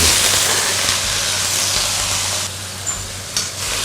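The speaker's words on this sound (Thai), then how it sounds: "เดี๋ยวเราผัดให้น้ำแห้งรอบนึงก่อน" Rice vermicelli with water mimosa stir-fries in a pan with added water, giving a steady loud sizzle and hiss with occasional scraping stirs, no voices present.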